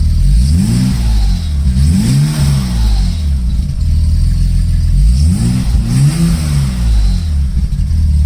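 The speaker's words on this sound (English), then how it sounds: "just listen to the 6-cylinder." A stock BMW E30's six-cylinder engine, cold, revs up and falls back several times, loud and close, with a steady rumble between the revs.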